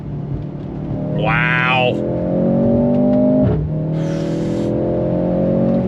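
A 2024 Mercedes-AMG C 43 sedan pulls hard in second gear, its engine note rising steadily and loud, easing briefly as a shift comes, then climbing again, while a person speaks briefly over it.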